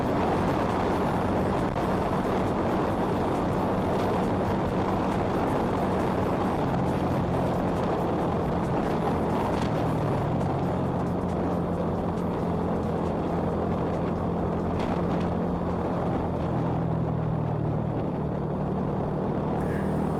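A Yamaha R15 V3 fitted with an R9 Misano muffler and dB killer gives a continuous, loud, low exhaust rumble with a shifting engine drone throughout.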